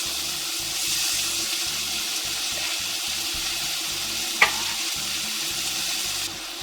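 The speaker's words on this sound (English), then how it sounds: "Let's go ahead and get our onion in there." Chopped onions sizzle in a hot pan beside browned meatballs for Italian meatballs, a steady close crackle with a brief sharp clink partway through and no talking.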